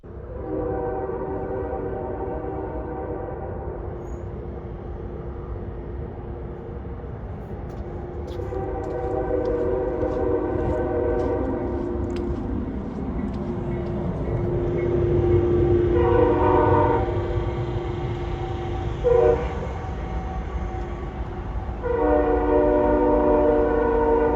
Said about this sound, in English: I heard multiple trains go by, and I think I videoed one.